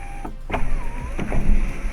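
The electric sunroof motor of a Kia K4 1.6 T-GDI GT-Line whirs steadily for about two seconds, with faint mechanical clicks and no talking.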